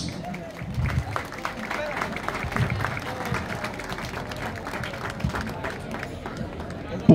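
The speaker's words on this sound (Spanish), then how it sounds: "un fuerte aplauso para cada uno de ellos" A crowd gives a municipal band in Estanzuelas, El Salvador, sustained applause: dense, steady clapping from many hands at moderate distance, with crowd murmur mixed in throughout.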